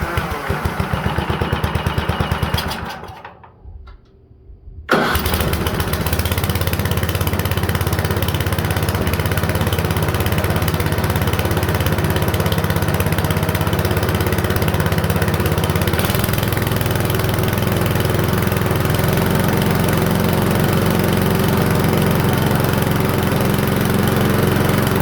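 A Hauns Eclipse Snow Giant snowblower engine runs steadily and loudly up close, briefly sputtering and nearly dying early on before catching again and droning on until it runs out of gas.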